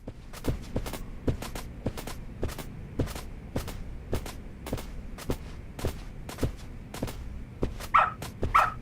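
In the video game Lost Judgment, a dog gives two short barks near the end, after a steady run of rhythmic footstep taps that is moderately loud and even.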